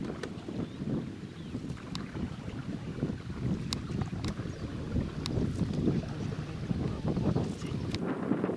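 Wind buffets the microphone in a low, continuous rumble on a river rafting trip, with faint water sloshing and occasional light knocks from a small boat.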